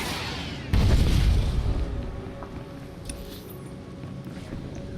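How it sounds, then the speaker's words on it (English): A deep boom from an explosion in Star Wars: The Old Republic bursts out abruptly and loud, then rumbles and slowly fades over a few seconds into a lingering low hiss. "Blow this up."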